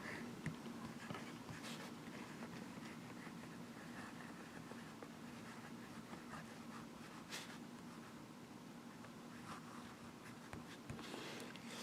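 A fountain pen with a 1.5 Anderson nib scratches across paper, a faint, close, continuous scraping with soft strokes and occasional light taps, and no talking.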